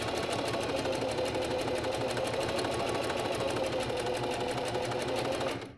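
Sewing machine running continuously as it stitches up the length of linen pants, a steady close mechanical whir that stops abruptly at the end.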